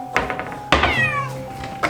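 A cat meows several times from inside a bathroom, with short bursts of varying pitch, some drawn out and sliding. A couple of knocks or thuds mix in between the calls, and no one speaks.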